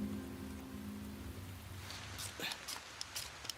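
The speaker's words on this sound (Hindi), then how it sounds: "यहाँ हर रोज शाम को आने वाली बारिश शुरू हो रही है।" Evening rain beginning to fall in a wet outdoor wilderness setting, with soft steady patter building up and a few sharper drops landing close by toward the end.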